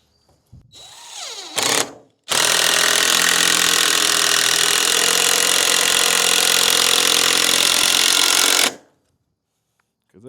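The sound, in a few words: power tool driving screws into wood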